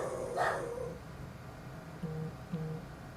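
Dogs barking indoors, a few short yips and whimpering barks spaced across a few seconds, moderately close against a low background hum.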